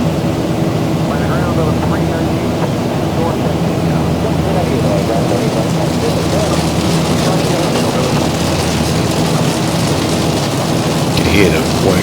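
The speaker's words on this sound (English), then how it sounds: "Hear the white rain pelting the aircraft" Heavy rain pelting a JetBlue airliner on a flight from West Palm Beach to Orlando, a loud dense wash of drumming water over the steady roar of the cabin, unbroken throughout.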